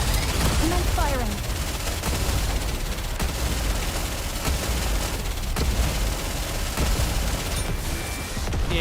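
Dense, continuous gunfire from the Nikke video game, with rapid overlapping shots and occasional sharp louder bangs, loud and close throughout, with voices speaking over it at times.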